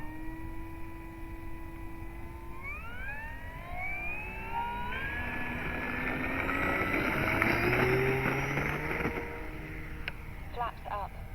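An E-flite Cirrus SR22T RC plane's electric motor whines up in a rising pitch sweep as it takes off with flaps set, growing louder then easing as it climbs away.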